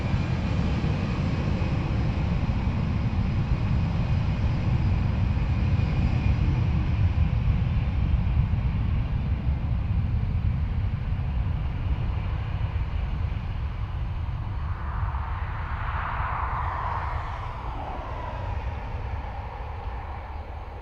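Retro airliner departing Dublin Airport, a steady loud jet roar with heavy low rumble filling the whole stretch, swelling slightly mid-way, with no talk over it.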